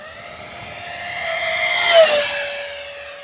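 An E-flite Habu XS 80mm electric ducted-fan RC jet makes a high-speed pass, its loud whining rush rising and peaking as it sweeps past, then easing away, with no talk.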